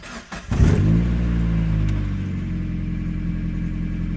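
A 2000 Mazda Miata engine, just started after sitting for two or three days, catches with a brief rising rev and then settles into a steady, close, even idle with no talking.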